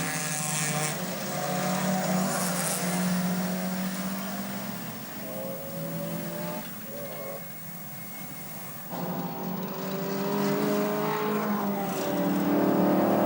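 A Morgan Plus 8 race car, number 88, at the Nürburgring 24 Hours, its engine roaring and revving through gear changes, swelling and fading as it runs past with other cars.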